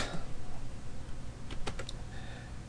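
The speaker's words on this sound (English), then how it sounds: "And then at the command prompt, type net" Brief burst of a few quick keystrokes on a computer keyboard while entering a command-line instruction, faint under a steady background hiss with no speech.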